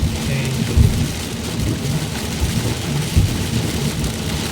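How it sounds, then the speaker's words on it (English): Heavy rain pounds steadily on a moving car during a thunderstorm, with low thunder rumbling through the constant roar and occasional deeper booms; no talking. "There's a storm. You're going right into a storm."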